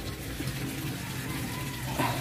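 Water pours steadily into a reservoir with a continuous splashing gush that swells slightly near the end. The sound is close and unbroken, and no one speaks.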